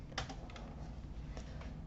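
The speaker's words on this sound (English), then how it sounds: "You can verify that by typing node version." Computer keyboard keys are tapped in a short, quick burst of typing on a command line, a handful of close, light clicks with no talking.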